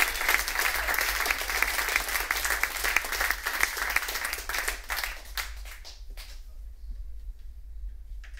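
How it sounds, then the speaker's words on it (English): Audience applause fills a live club concert in Leiden, Holland: dense clapping for about six seconds, then thinning out over a low, steady hum from the venue. "give those folks a round of applause"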